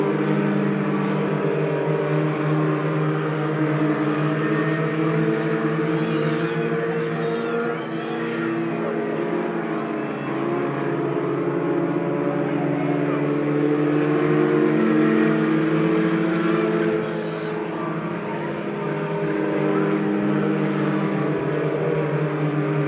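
Stock cars race at Lebanon I-44 Speedway, a dense, steady roar of several engines droning together with swelling passes, while a commentator talks over it.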